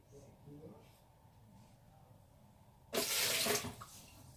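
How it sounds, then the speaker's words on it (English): Excess water is poured out of a cooking pot holding boneless chicken thighs, a sudden loud close splash lasting under a second after quiet room tone, with a person speaking briefly beforehand. "Ooh, that's too much water. Let me pour some of this water out."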